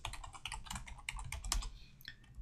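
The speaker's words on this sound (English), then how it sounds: "So here I'm typing butane and tab completing it." Quick, close typing on a computer keyboard: a dense run of crisp key clicks at an uneven rhythm, trailing off into a few final taps.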